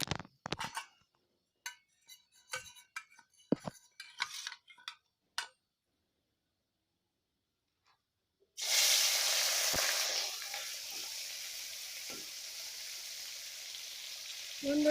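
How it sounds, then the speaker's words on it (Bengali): Khalshe fish dropped into hot white oil in a kadai set off a loud, steady sizzle that starts abruptly partway through, after scattered clinks and handling noises and a quiet pause. "প্রথমে তেলটা গরম হয়ে গেছে, তো আমি একে একে মাছগুলো কড়াইতে দিয়ে দেব।"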